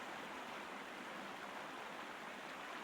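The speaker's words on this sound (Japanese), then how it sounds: "いいね、水の音。 水の音はいいね。" Faint, steady rush of flowing water in the Sherlock Holmes Crimes and Punishments video game, a continuous stream-like wash with no other sounds.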